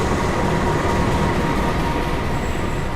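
The Argo Wilis executive train sits at platform 6 of a Surabaya station, giving off a loud, steady mechanical rumble and hum with a faint high whine, continuous and close, with no voices.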